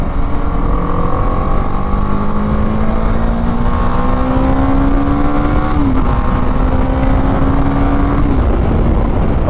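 A BMW G310 GS motorcycle accelerates at speed on the road, its engine note climbing steadily through two gear changes under heavy, constant wind roar.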